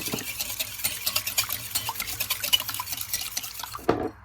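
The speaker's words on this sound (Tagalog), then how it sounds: "ibit ko na po itong egg natin" An egg beaten in a bowl for chocolate chip muffins gives a fast, steady run of close clicking and scraping against the bowl, ending with a brief louder clatter.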